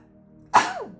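One loud, close sneeze with a quick explosive burst trailing into a falling vocal tail, alone in a quiet room.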